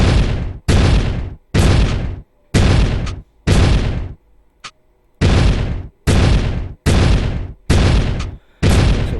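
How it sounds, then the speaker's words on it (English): Bomb tower in Bloons TD 5 sets off about ten loud, punchy explosions at a steady, evenly spaced rhythm, each a sharp boom that decays quickly, with no talk. "it throws out giant bombs that can blow up balloons."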